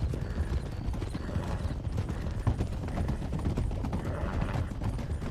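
Horse hooves clip-clop at a brisk, steady pace in Red Dead, with dense close hoofbeats and some creaking tack, continuous and fairly loud with no talk.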